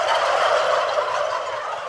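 Turkeys gobble on a farm at a turkey research center at North Carolina State, a loud, continuous chorus of overlapping gobbles heard alone without any talking.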